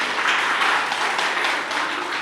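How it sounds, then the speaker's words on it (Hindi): A live audience at a Hindi comedy poetry show claps loudly together, a dense, even wash of applause held for a couple of seconds with no voices over it. "एक बार जोरदार तालियां बजाएं"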